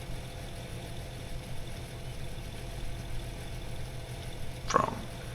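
A tractor engine idles in Farming Simulator 22 with a steady low rumble, close and constant, and a brief sharper click or clunk near the end.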